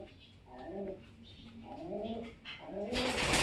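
Pigeons coo in a breeder's loft, several soft, rolling coos repeating in slow phrases close by, ending with a brief noisy rush like fluttering wings.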